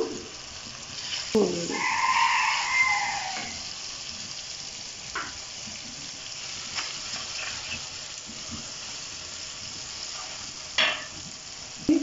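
A masala of softened tomatoes, green chilies, chili powder, salt and dried coriander fries steadily in a pan, a close, even sizzle broken by occasional scrapes and knocks of a spoon stirring it.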